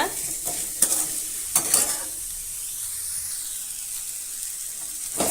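Radish being sautéed for spicy radish chutney, with sharp spatula scrapes and clanks against the pan over a steady, close sizzle.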